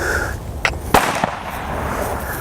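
Gunshots fired near an untrained horse with no earplugs during horse training outdoors: a few sharp, loud cracks in quick irregular succession over a steady background hiss.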